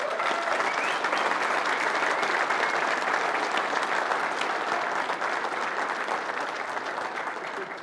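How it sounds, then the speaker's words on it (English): An audience claps in a warm, sustained round of applause at the opening of a big event, a dense patter of many hands that stays strong before easing slightly toward the end. "A warm round of applause for Doreen."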